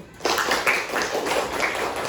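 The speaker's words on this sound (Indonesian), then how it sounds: "Oke, tepuk tangan dulu." Children in a classroom religious lesson break into a short burst of clapping that starts abruptly and carries on steadily for about two seconds, fairly loud and close.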